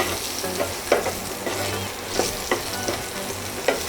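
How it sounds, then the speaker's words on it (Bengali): Cauliflower with turmeric and salt frying in oil in a kadai, a continuous close sizzle broken by regular scraping strokes of a spatula roughly every half second, no one speaking. "2 মিনিট ফুলকপিটাকেও সুন্দর করে ভেজে নিই"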